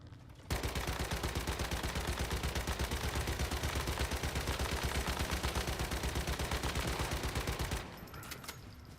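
The KVD Boom Boom gun in the game Once Human fires one long, unbroken, rapid automatic burst of loud, dense gunfire that starts abruptly and stops after about seven seconds.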